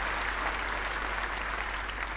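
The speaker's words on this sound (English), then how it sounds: "another warm round of applause for another glorious Jimmy White shot" A snooker crowd at Cheltenham applauds a shot with steady, dense clapping that holds at an even level throughout, filling the hall without voices.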